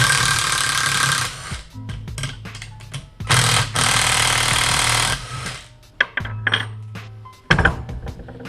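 Bolts being tightened on a Wagon engine with a spanner and power tool, giving loud rattling bursts of rapid clatter that start and stop several times, close and without talk.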